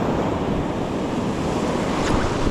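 Wind and surf on a New Jersey saltwater beach, a loud continuous roar of breaking waves mixed with gusty wind buffeting the microphone, steady throughout with no talk.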